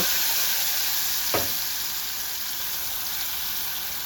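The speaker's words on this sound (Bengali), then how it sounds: "এদিকে কড়াই বসিয়ে গরম করে নিয়েছি তেল দিয়ে দিলাম কালো জিরে দিয়ে দিলাম তেজপাতা আর ওই পেস্ট দিয়ে দিলাম" Poppy seed paste hits hot oil in a wok already tempered with nigella seeds and bay leaf, giving a steady, close sizzle throughout with one brief louder spatter and no talk.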